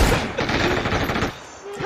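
Dense rapid gunfire from a video game shooter, a fast burst of overlapping shots that fades into quieter scattered sounds near the end.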